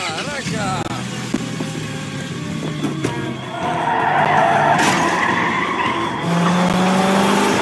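Tires skid and squeal as a car speeds off in a zombie horror-action film scene, with a loud sustained screech and engine roar that swell midway while voices shout over the commotion.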